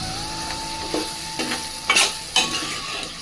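Fresh curry leaves hit hot oil in a tomato vegetable sambar masala with dried red chillies, making a continuous sizzle punctuated by several sharp crackling bursts, close and without speech.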